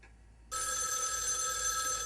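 Telephone ringing in a horror video game, a shrill electronic bell that starts abruptly after a moment of near silence and then rings on continuously, loud and close.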